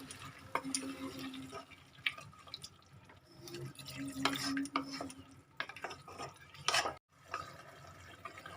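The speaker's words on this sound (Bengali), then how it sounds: "একটু জল অ্যাড করি।" Water poured into a pan of simmering vegetarian aloo dum made with paneer paste and yogurt, heard as close stirring, dripping and soft sizzling, with brief breaks in the sound.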